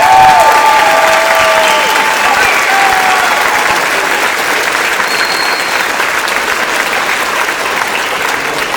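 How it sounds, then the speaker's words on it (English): A school audience claps loudly for beginner 4th and 5th grade band students at a winter concert, the applause sustained and full, easing slightly toward the end, with a brief tonal ring near the start. "Let's give them a round of applause"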